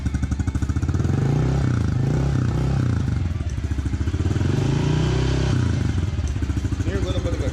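A Honda CRF110 dirt bike idles while warming up from cold, a close, steady, pulsing single-cylinder putter with faint mechanical clatter and a slight rise and fall in revs.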